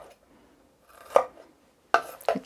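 A knife chops through tri-color bell peppers on a cutting board: a few sharp, close cuts, one alone and then two in quick succession, with near silence between them.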